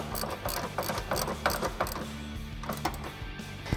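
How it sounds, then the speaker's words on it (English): Ratchet with a 16mm socket tightening bolts on Barricade running boards on a 2021-2023 Ford Bronco, giving a steady run of close, quick mechanical clicks with a few louder metallic knocks and no talk. "Then I'm going to grab my ratchet with my 16mm, and we're going to tighten these up."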